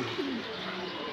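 A racing homer pigeon gives a short, soft coo close by against a faint steady background hum.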